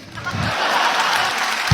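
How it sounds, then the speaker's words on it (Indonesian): An audience at a stand-up comedy parody show bursts into brief applause, a dense burst of clapping that fills the short moment with a few louder claps near the end. "Boleh tepuk tangan dong buat mas-mas ini?"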